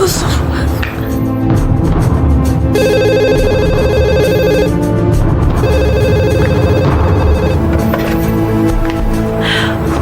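A telephone rings in a home, its repeated electronic trills sounding in bursts while people talk over and between the rings.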